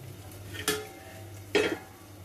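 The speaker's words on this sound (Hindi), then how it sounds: "तो मैं इस पोहा को पहले एक इस बर्तन में निकाल लेती हूँ।" Washed poha emptied into a metal cooking pot, two distinct scraping clatters of utensil against the vessel about a second apart, close and fairly quiet over a low background hum.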